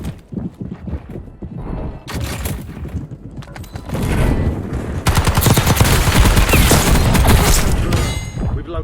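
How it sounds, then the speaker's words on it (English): Rapid automatic gunfire and heavy explosions from an airstrike in the video game Warzone 2.0, loud and continuous, building in intensity and density as the barrage goes on, with no talking. "Hostile airstrike incoming."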